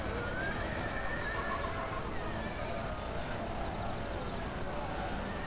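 Horses neigh and whinny repeatedly during a Lord of the Rings strategy game battle between Gondor rebels and Mordor trolls, with hooves clip-clopping through a dense, continuous din of combat.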